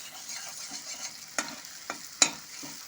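Yogurt cooks with ground spices in a pan over low heat, a soft, quiet sizzle with occasional crisp spatula clicks and scrapes as it is stirred.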